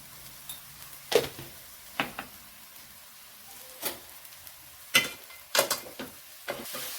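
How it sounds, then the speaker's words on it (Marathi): Prawns sautéed in a masala with fresh coriander and salt, stirred in a pan: soft sizzling broken by about a dozen sharp scrapes and clinks of the spoon against the pan, fairly close, no voices. "मसाल्यामध्ये कोळंबी परतून घ्यायची"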